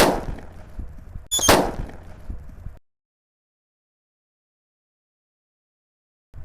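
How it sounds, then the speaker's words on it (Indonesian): A red paper-wrapped Whistling King Thunder firecracker fizzes briefly, then bursts in a sharp loud crack with a short crackling tail, followed by silence. "Langsung saja kita mulai menyalakan mercon buntelan kertasnya."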